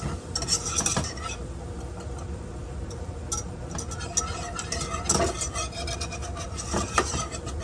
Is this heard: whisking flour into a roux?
yes